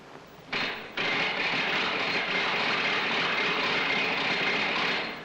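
A film sound-effects noise machine imitates a horse-drawn carriage: a steady, loud rushing rumble kicks in after a brief start and holds evenly, with no distinct hoofbeats standing out.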